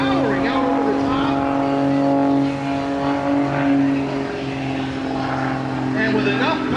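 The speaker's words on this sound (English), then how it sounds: "working that airplane around and around and around on that 310 horsepower engine and just powering out over the top" Aerobatic airplane with a 310 horsepower engine drones steadily at an airshow, a strong sustained tone with shifting pitch as it powers around and over the top, heard alongside continuous commentary.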